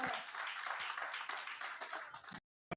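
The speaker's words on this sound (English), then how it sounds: "give God a hand clap of praise" A church congregation clapping in praise during a worship service, dense and continuous applause that stops abruptly near the end, fairly faint, with one last stray clap.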